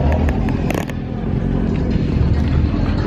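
A small kit car at a car event rumbles close by with a loud, steady low engine drone and scattered mechanical clicks and rattles.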